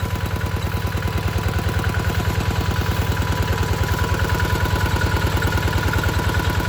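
A single-cylinder walking tractor engine, used to drive a water pump for irrigating a rice field, chugs steadily at idle-like speed with a fast, even thumping beat and heavy vibration, close and continuous throughout.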